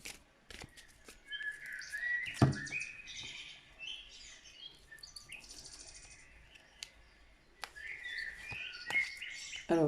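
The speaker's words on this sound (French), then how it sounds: "J'espère que c'est pas trop fort les oiseaux." Birds chirp and twitter outdoors in quiet, scattered bursts of song, with occasional sharp clicks and no voices.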